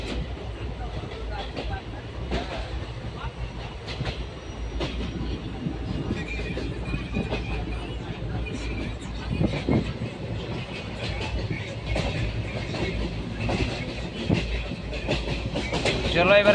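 A passenger train travelling from Balrampur toward Silchar in Assam, heard from a seat inside the carriage: steady rumbling wheel noise with rhythmic clickety-clack over the rails, continuous and fairly loud throughout.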